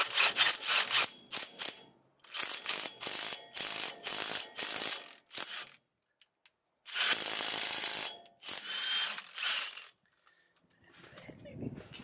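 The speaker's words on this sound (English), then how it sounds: "Maybe I can drive the lug nut on real quick just to get it started." Rapid bursts of an impact wrench drive a lug nut onto a new wheel stud of a 2010 Ram 2500 Cummins Mega Cab truck, loud and close, with short pauses between runs and a longer final stretch.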